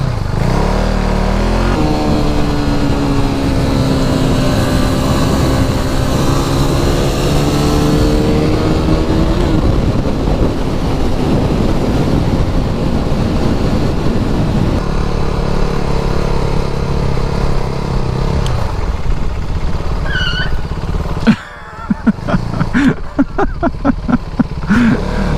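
A KTM RC390 sport motorcycle is ridden, its single-cylinder engine droning loud and close, climbing through the gears with rising revs. Wind rush surrounds it, and it eases off near the end, followed by a few clattering knocks.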